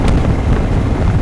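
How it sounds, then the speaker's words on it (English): Steady wind buffeting a microphone while riding a Harley-Davidson Pan America 1250 Special motorcycle, a broad, low rushing roar with no voices. "So there's a little bit of wind today,"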